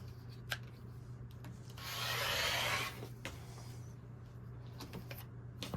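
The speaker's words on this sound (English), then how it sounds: "I'm just going to cut right along this edge." A single cut through fabric along a quilted table runner edge makes a soft, close rasp lasting under a second, set among quiet taps and clicks in a calm room.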